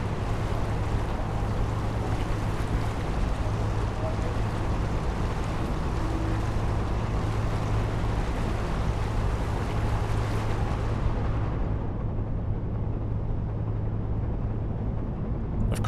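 A ship sailing through water in Seafarer, a steady low rumble of hull and churning sea with wind, continuous and unbroken, the brighter hiss dropping away near the end.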